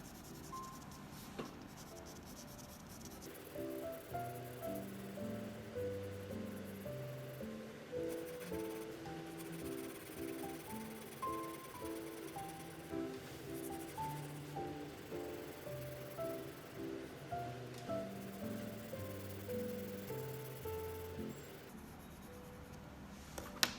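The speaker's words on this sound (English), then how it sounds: "I'm going to use HB pencil first." An HB graphite pencil scratches and rubs across drawing paper while shading a cube, making close, steady strokes in a continuous rhythmic pattern with soft repeated pulses and no talk.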